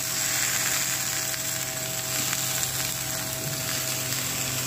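Flat beans (sim) frying in a little oil tempered with five-spice, with fish in the pan, giving a steady, even sizzle that holds at a moderate level throughout without a break.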